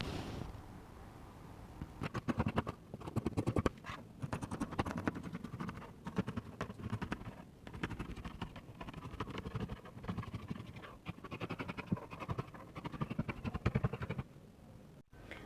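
Scissors cutting a circle shirt dress pattern out of fabric, a continuous run of close, soft snipping and rustling strokes with brief pauses, fairly quiet and alone.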